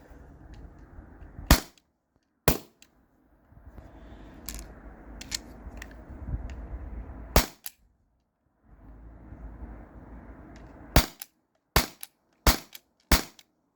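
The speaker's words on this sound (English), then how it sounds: "So here's 6 more rounds. These are the plastic or like nylon balls." A T4E HDP50 Gen 2 pistol fires nylon balls at cans, giving about a dozen sharp snapping shots, some in quick clusters, separated by quiet stretches and a low handling rumble.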